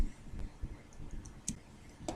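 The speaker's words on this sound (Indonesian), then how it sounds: "Jadi klik, lepas, tarik mouse, klik lagi, lepas," Computer mouse clicking while drawing in design software: a few faint, sharp clicks spaced irregularly over a quiet room background.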